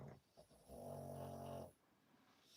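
A dog gives a single drawn-out, nasal snore lasting about a second, close and fairly quiet, with soft breathing before and after.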